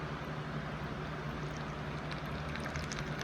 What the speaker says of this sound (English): So take your water cup, pour it right there in that reservoir.